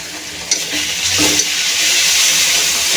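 Ginger paste and green chili paste frying in a pan for koi fish curry, giving a steady, fairly loud sizzle with a few stirring scrapes and no talk.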